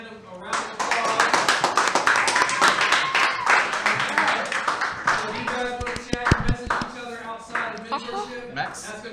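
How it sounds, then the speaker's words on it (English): An audience at a live teen mentorship broadcast gives Max a round of applause, dense scattered clapping that swells and fades over several seconds while voices talk over it. "everybody, let's give Max a hand of a round of applause."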